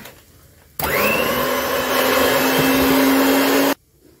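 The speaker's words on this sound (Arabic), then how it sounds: "اضربه بالمضرب بتاعي اهو" An electric hand mixer beats frozen milk in a bowl, running as a steady loud whirring drone for about three seconds before cutting off sharply.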